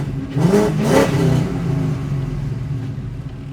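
A 5.0 Coyote V8 swapped into a 1967 Ford Mustang Fastback fires up and revs twice in quick succession, loud and throaty up close, then settles into a deep rumbling idle.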